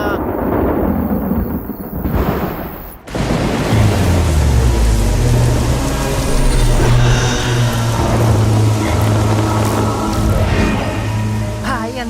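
Steady heavy rain pours down loudly, with a low rumble running underneath and a brief change in the noise near the start.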